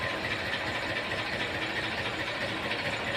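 An old Eicher 485 farm tractor idles nearby, a steady rumbling chug under constant broadband noise with no speech.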